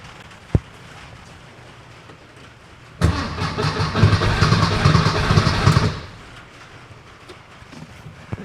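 After a quiet stretch with a single sharp click, a 1964 VW Beetle engine fitted with Empi dual carbs cranks and catches, then runs loudly for about three seconds before cutting back to near silence.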